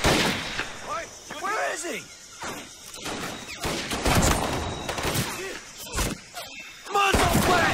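Gunfire in a WWII video game, heavy and dense, with bursts of shots and booming blasts overlapping continuously, while voices shout over the combat.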